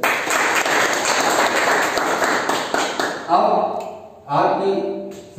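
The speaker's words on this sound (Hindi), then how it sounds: "ताली होनी चाहिए सर।" Applause from an audience at a product presentation, a loud dense patter of clapping for several seconds that thins and breaks up toward the end, with music-like tones entering near the close.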